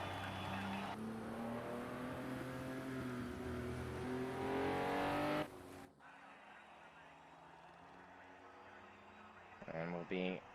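BMW M1 Procar race cars on a formation lap in a racing video game, engines droning and rising steadily in pitch, then cutting off abruptly and dropping to a low idle hum with a brief rev near the end, with talk over it.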